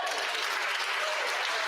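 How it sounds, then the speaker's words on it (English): Members of parliament applauding in the chamber during Question Period, a short, dense, steady burst of crowd clapping. "They'll clap for anything."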